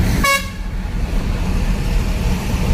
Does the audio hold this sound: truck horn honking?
yes